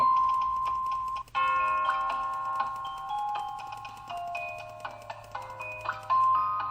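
A bright, chiming melodic sound effect played from the Scratch coding app, a run of steady electronic tones stepping up and down with faint ticking beneath, close and continuous, heard alone.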